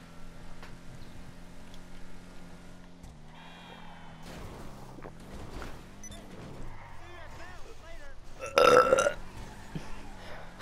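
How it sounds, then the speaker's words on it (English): A person burps amid ongoing talk, with one loud, sharp belch standing out near the end over a noisy, busy background. "Don't open your mouth and burp."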